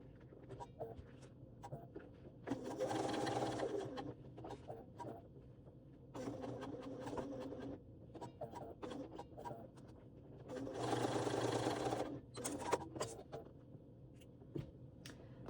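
A domestic sewing machine runs in two main bursts, stitching a line across a waist pack, with quieter handling and fabric shuffling between runs, close and moderately loud.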